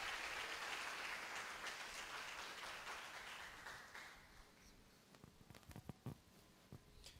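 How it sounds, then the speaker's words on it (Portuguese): A church congregation applauds a family with dense, reverberant clapping that is loudest at first, then thins out and fades into a few scattered claps and light knocks. "Uma salva de palmas para essa família abençoada."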